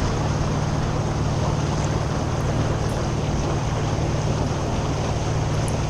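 A 1976 JonkerPaans displacement motorboat cruises at about 4.4 knots, its engine droning in a steady low hum beneath continuous wash and wind noise, unchanging throughout.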